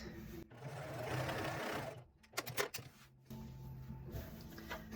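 A sewing machine stitches quilt strips together, running in close, fast mechanical bursts with a brief pause in between as the fabric is adjusted.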